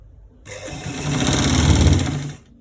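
A sewing machine runs a continuous stitch along a collar roll at a quarter-inch seam, a steady close whirring drone lasting about two seconds that starts and stops abruptly, with no one speaking.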